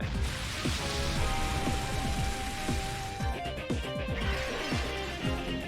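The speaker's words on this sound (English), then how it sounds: "He used Rain Dance." Rain Dance move in the Pokémon XD: Gale of Darkness video game, a steady wash of rain with repeated splashy impacts and a tonal game-music layer, moderately loud and continuous.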